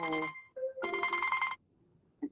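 Phone ringing with an incoming WhatsApp call: two loud bursts of a bright harmonic ringtone, the first brief and the second longer, separated by a short lower tone, then near silence broken by a faint blip.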